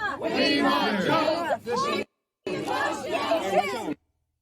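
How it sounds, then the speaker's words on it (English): A crowd chants "We want Joe" in two loud, rhythmic bursts of many voices shouting together, with a short silent gap between them and silence at the end. "So the crowd is chanting, "We want Joe.""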